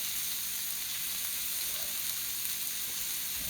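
Purple sweet potato taco filling sizzling softly in a hot pan while being stirred, a steady faint frying hiss with no talking.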